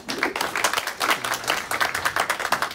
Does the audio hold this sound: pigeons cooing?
no